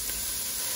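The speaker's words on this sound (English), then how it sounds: "Sizzle, sizzle." Chopped onion sizzles in hot avocado oil in a pan, making a steady, close, dense hiss with no talking over it.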